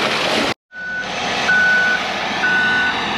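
A concrete truck backs in at a muddy basement dig site, its diesel engine rumbling steadily while a backup alarm sounds three drawn-out, evenly spaced beeps. There is no talk.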